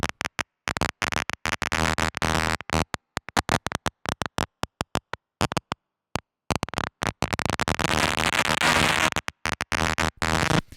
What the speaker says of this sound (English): we're going to get into another cool glitchy texture